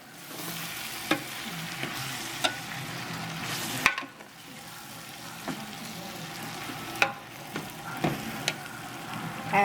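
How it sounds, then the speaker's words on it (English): Paella ingredients fry in a pan with a steady sizzle while being stirred, with scattered scraping clicks of the utensil against the pan over about ten seconds. "Stir it all together."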